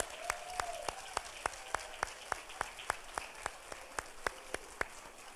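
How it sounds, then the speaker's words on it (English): Sparse, rhythmic clapping from a small audience at a recognition ceremony, each clap distinct and evenly spaced for several seconds, with faint room murmur underneath. "so we can give them a round of applause"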